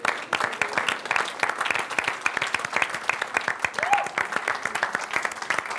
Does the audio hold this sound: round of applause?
yes